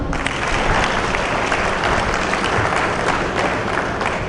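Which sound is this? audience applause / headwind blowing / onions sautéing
audience applause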